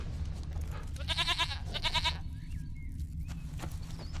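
A goat in The Witcher 3: Wild Hunt bleats twice in quick succession, two wavering nasal calls over a low steady game ambience, followed by faint whistling tones.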